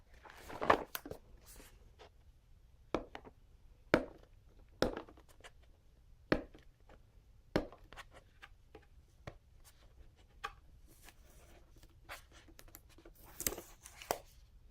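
GoPro Hero 4 Silver camera packaging being opened in a quiet room, with scattered sharp clicks, taps and soft tearing rustles spread over the whole stretch, some louder snaps among faint handling noise.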